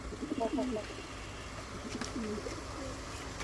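Pigeons coo in short, throaty bursts at moderate distance on a fancy pigeon farm, with a steady background murmur and some faint voices.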